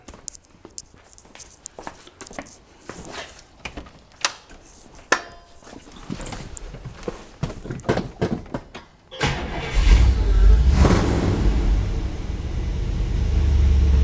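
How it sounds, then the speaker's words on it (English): A Buick 425 Nailhead V8 with points ignition and stock power steering cranks in a series of sharp clicking turns, then catches and fires into a loud, rumbling idle. "So let's try and fire this up."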